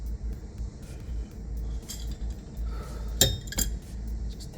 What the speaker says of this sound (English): Just tap it with my wrench a little bit.